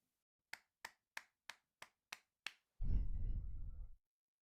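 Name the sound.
seven hand claps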